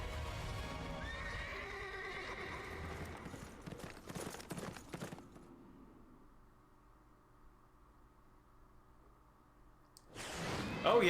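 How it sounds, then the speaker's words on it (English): A horse in the Metal Gear Solid: Peace Walker video game, heard as loud neighing over clip-clopping hooves and game noise, followed by quieter low rumbling ambience, with a sharp burst of sound near the end. "Oh yeah, that's right. The boss's horse."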